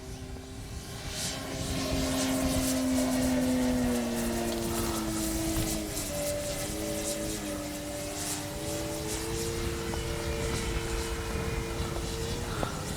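Hangar 9 Valiant 20cc RC airplane with a gas engine making a full-speed pass downwind, its steady propeller drone swelling loud and shifting in pitch as it passes, then holding at a sustained buzz.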